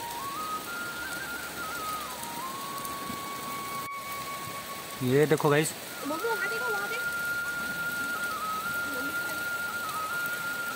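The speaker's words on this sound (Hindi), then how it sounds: "बहुत ज़्यादा बारिश आ रही है, सुबह से आ रही है" Steady heavy rain hiss fills the scene, briefly interrupted by a short spoken phrase and a whistling tone that fades in and out.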